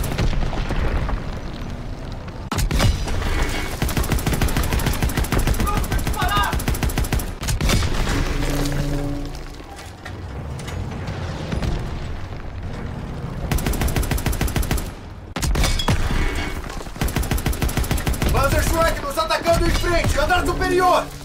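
Gunfire in Call of Duty WWII, dense bursts of rifle and machine-gun fire with booming explosions, loud and nearly continuous with short lulls, mixed with shouted voices and battle noise.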